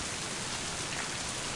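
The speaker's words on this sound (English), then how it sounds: "Maybe it is a problem with the rain?" Dense, constant rainfall in the video game MIND: Path to Thalamus, a continuous hiss of drops hitting surfaces with no talking.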